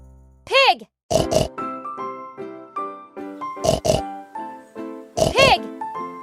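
Pig oinks come in short clustered bursts, recurring three times over a gentle, plinking children's melody.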